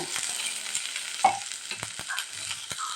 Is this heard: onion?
yes